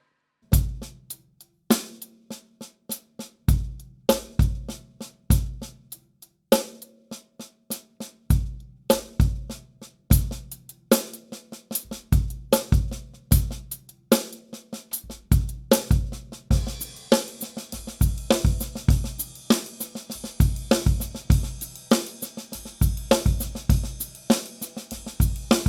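A funky drum groove starts slow and gradually speeds up, punchy syncopated kick drum hits on the and of 3 and the e of 4 under steady cymbal and snare, growing denser and busier.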